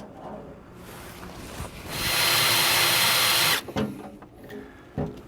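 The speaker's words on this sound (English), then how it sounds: "I'm going to use my drill bit in each one of these holes" A power drill whirs steadily for a couple of seconds drilling holes for a battery disconnect switch in a motorhome, then winds down, followed by scattered clunks and handling noises nearby.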